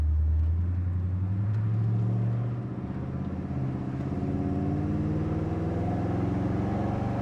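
A 1979 Chevrolet Corvette engine runs steadily, then its note dips and climbs again in a smooth rumbling rise, moderately loud and heard alone.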